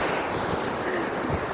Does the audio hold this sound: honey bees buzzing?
no